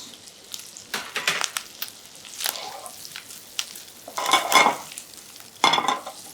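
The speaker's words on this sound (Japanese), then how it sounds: "ここはよく炒めるので強火でもいいと思います。 よく炒めてください。" Bacon and mushrooms are stir-fried over high heat, with bursts of sizzling and repeated scraping and clattering of a utensil against the pan, close and uneven, louder toward the end.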